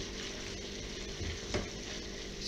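Chicken hearts in sour cream stewing in a pan, a steady soft sizzle and bubble with a brief scrape of stirring partway through.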